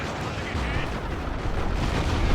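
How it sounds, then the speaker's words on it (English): Plasma cannon fire in the Warhammer 40k Dawn of War 2 video game, a dense roaring blast of energy weapon noise sustained throughout, loud and mixed with battle din. "Plasma cannon."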